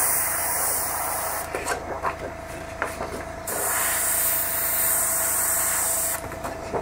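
An airbrush sprays thinned Vallejo Model Color acrylic paint in two long, steady hissing bursts at close range, separated by a short pause in which the hiss softens.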